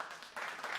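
A soundboard clapping sound effect played during a live show, a short faint burst of canned applause under a second long that swells slightly partway through.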